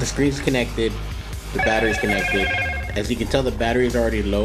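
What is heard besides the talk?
phone beeping during fob battery replacement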